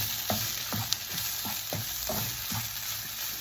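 A spoon stirs mashed potato and chicken in a pan with steady rhythmic scrapes, roughly six strokes over a soft continuous sizzle, close and fairly quiet.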